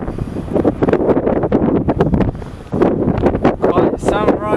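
Gusty wind buffets the microphone in loud, uneven rushes while an aircraft lands on runway 20 at Southampton airport in windy conditions. People talk excitedly over it.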